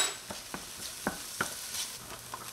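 Finely chopped onion and garlic sautéing in a pan for a tortellini cream sauce, a light sizzle broken by several distinct stirring scrapes and taps of the utensil.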